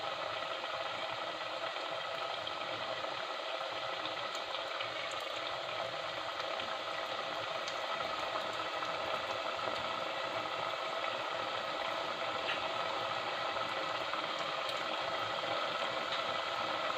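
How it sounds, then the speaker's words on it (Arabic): Moroccan honey pastry dough fries in a pot of hot oil, giving a steady, dense sizzling hiss that stays even and close throughout, with no one speaking. "كنديروا الزيت في الكاميله اولا كاسرونه حتى تسخن مزيان وتنوضعوا فيها الحلوه ديالنا على هذا الشكل"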